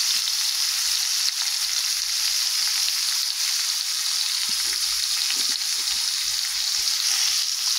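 Turmeric and chili hitting hot oil in a pan of cauliflower and potato curry, a steady loud sizzle with occasional soft stirring clicks, close and continuous.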